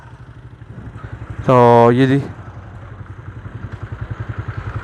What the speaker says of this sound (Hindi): ये ट्रैक्टर यहाँ से मोड़ते हैं तो आप लोगों को दिखाते हैं जी